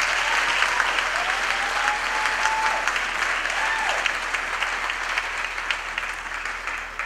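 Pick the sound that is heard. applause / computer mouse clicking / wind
applause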